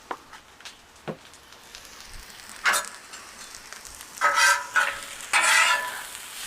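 Garlic seasoned with salt and pepper sizzles in a pan, with a quiet frying hiss broken by soft clicks and a few louder bursts of spattering as it is stirred.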